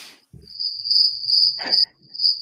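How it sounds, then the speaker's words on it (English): Crickets chirping as a sound effect, a close, high, steady trill broken by short gaps, with a brief low thump and rustle mixed in. "Those are crickets if you can't hear it."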